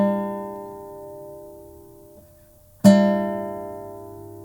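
A sustained fingerstyle guitar chord, G with an E in it, rings and slowly fades, then a single sharp strum brings it back to full, ringing clearly with no voices.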